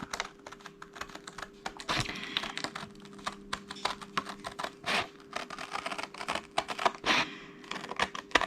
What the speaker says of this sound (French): Et je vais venir découper.